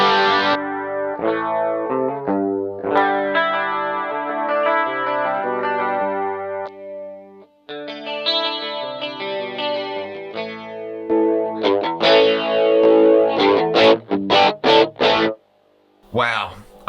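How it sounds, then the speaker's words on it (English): Electric guitar played with overdrive through a Nobels SST-19 pedal, loud distorted chords and riffs with chorus and echo effects, ending in a quick burst of sharp stabs. "let's hear the overdrive"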